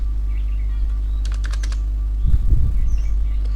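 A short burst of typing on a computer keyboard, several quick keystrokes in a cluster over a steady low hum, followed by some soft handling noise.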